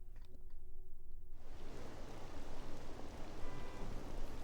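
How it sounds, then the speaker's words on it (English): Steady rain falls in the video game Persona 5. The patter is soft and even, faint at first and then filling out into a continuous wash of raindrops. "Oh no, it's raining."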